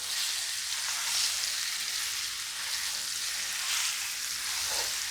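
Spiced potatoes with coriander-cumin powder and garam masala fry in hot oil in a pan for garlic potatoes, giving a steady close sizzle with faint scraping as they are stirred, and no voices.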